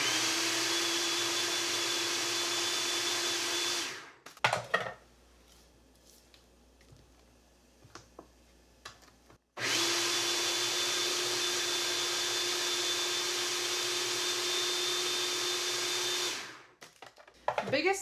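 Food processor whirring through pumpkin cheesecake batter with room-temperature eggs added, a loud steady motor drone that cuts off, a quiet pause with small handling clicks, then a second long run that stops again.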